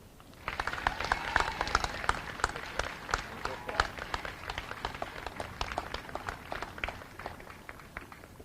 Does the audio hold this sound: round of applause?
yes